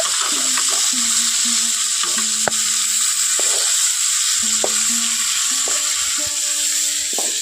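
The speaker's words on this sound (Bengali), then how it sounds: "মাছগুলো একটা পিঠ হয়ে গেছে এখন উল্টে পাল্টে ভেজে নেব" Pangas fish fry in a pan with a steady hiss and sizzle of hot oil, close and constant, punctuated by occasional stirring clinks and scrapes.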